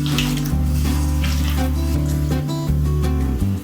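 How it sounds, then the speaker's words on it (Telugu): Water pouring steadily into a bowl of onion pakoda batter made with gram flour, a continuous close splashing stream. A low musical backing plays underneath, with no voices. "వాటర్ కూడా ఎక్కువ పోయొద్దు, కొంచెమే పోసుకోవాలి."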